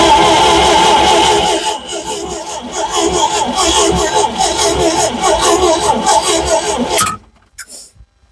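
An old Valmet forklift engine runs with the throttle applied, a loud, steady mechanical rumble over several seconds that dips briefly and then cuts off near the end, with voices talking over it.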